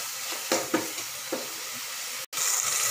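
Onions sauté with salt in oil for a fish curry, with a soft steady sizzle broken by a few quick stirring scrapes. The sound drops out for an instant before the frying continues.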